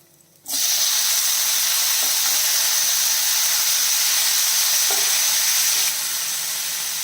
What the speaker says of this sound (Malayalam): തക്കാളി ചേർത്തിട്ട് നമുക്ക് നല്ല രീതിയിലൊന്ന് വഴറ്റിയെടുക്കാം